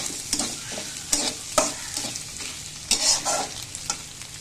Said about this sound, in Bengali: দেখেন আমি ডিম দিয়ে এখন সুন্দর করে এটাকে ভেজে নিয়েছি